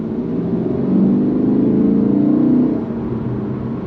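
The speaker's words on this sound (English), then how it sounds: "That's what the sound of that titanium exhaust is like." A Lexus RC F Track Edition V8 with a titanium exhaust gives a steady, moderately loud low drone that swells briefly as the revs rise, then settles back, heard from inside or close to the car.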